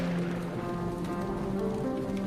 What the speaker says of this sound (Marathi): किती पाऊस आहे बघा ना